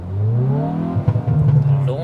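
A Hyundai i20N hot hatch sits in N mode with launch control engaged, its engine revving up in a rising, buzzy sweep before holding at the limiter, close and fairly loud.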